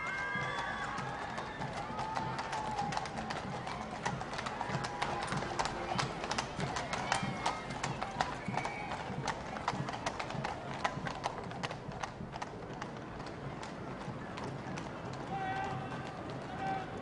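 Horse-drawn carriages of the Trooping the Colour royal procession move along the approach road near Horse Guards Parade. Hooves clip-clop steadily and densely at moderate distance, with a faint crowd murmur beneath and a commentator talking over it.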